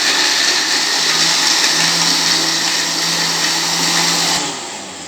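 A blender mixes a mango margarita, running with a steady loud whir for several seconds before the motor winds down.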